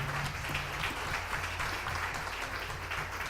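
A church congregation applauds, steady dense clapping at moderate volume that holds evenly throughout.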